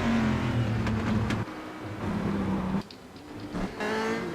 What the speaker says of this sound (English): You hear the rumble of the Corvette engine.